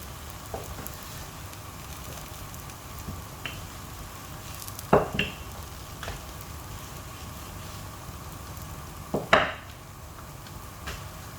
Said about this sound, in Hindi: ये हमने पराठा बेल के तवे पे डाल दिया, और थोड़ी देर बाद हम इसकी साइड चेंज कर देंगे।